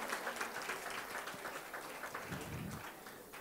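Applause for a guest being welcomed at a public event, a steady dense wash of clapping from a crowd, moderately faint and continuous throughout.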